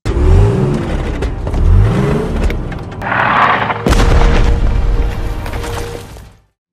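War-film battle scene with bombs exploding: loud engine-like sweeps and rumbling blasts, then a sharp heavy detonation that rolls on before cutting to silence.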